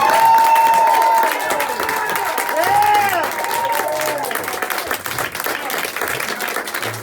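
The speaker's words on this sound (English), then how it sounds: "I never had people applaud like that before." After a talk, an enthusiastic audience breaks into sustained, loud applause with cheers and whooping calls rising over the dense clapping, which holds steady throughout.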